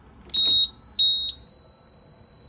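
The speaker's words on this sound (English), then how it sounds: "1 long beep, 2 short beeps, and the screen coming to life" Electronic beeps from a 2019 Suzuki DF150 APX outboard control panel as it switches on: two short high-pitched tones, then a long steady tone that keeps ringing, close and clear.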